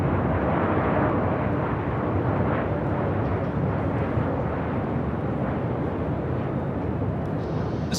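An Air Canada 737 MAX 8 airliner arriving from Vancouver on approach to the north side of LAX, producing a steady, loud broadband jet roar that holds throughout without a break.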